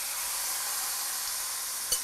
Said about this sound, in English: we're going to add the turkey